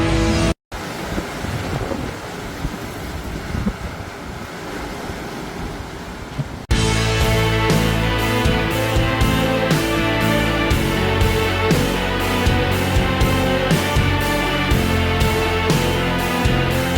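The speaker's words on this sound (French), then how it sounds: "jamais de ma vie je n'avais été témoin d'un vent aussi violent" Violent gusts from storm Nils roaring through Bordeaux, a dense continuous rush of wind noise that swells louder after several seconds and stays loud, buffeting the microphone throughout.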